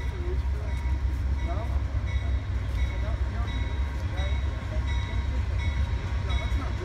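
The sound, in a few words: train arriving at Fullerton station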